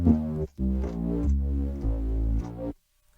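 A Creeper Drone synth preset is played on a MIDI keyboard: a handful of sustained, buzzy, harmonically rich tones step between pitches in a short sequence, then cut off into silence.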